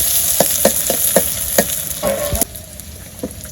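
Spice paste sizzling hard in a pan in a village kitchen, loud and steady, with a run of sharp scraping stir strokes about every half second before the hiss settles lower.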